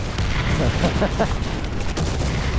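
Artillery shells bursting in War Thunder, a dense, continuous rumble of booms and crackling blasts heard loud and close throughout with no clear gaps between impacts.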